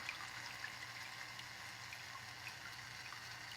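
Thin water streams falling steadily in a Lord Kelvin's thunderstorm electrostatic generator, bent by magnets, give a continuous soft trickling hiss, fairly faint and even throughout.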